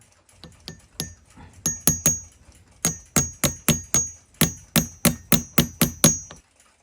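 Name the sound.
punch tapping a rivet onto a clock balance wheel hub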